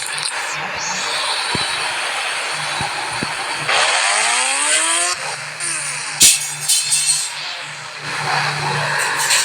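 A motorcycle engine from the mobile game Indian Bike Driving 3D drones steadily, then revs up and down in rising and falling sweeps with some bursts, loud and continuous, no speech.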